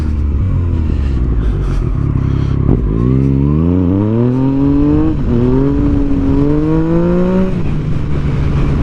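Car engine pulling away in first gear, loud and close, with the pitch climbing steadily through a rev, briefly dropping, then rising again under road and wind rumble.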